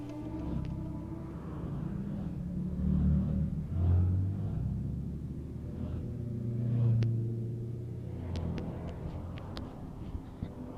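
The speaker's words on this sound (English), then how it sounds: "Let me show you a little glimpse of how the club R15 Bikers of Bangalore ride together." Several Yamaha R15 motorcycles ride together on a highway outside Bangalore, giving a steady mid-distance engine rumble with swells of revving as bikes pull alongside, plus wind noise throughout and no talk.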